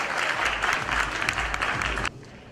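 Dense audience applause fills a Global Sindhi Lifetime Achievement Award presentation at the Sahyog Foundation Global Awards, loud and steady before cutting off sharply near the end.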